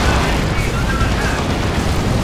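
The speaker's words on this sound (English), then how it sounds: "And that's a singularity. It's going to drag those guardsmen in." A singularity ability in Dawn of War 2: Retribution, heard as a loud, sustained rumbling roar with a deep booming low end and a faint whistling tone, continuous across the moment amid battle noise.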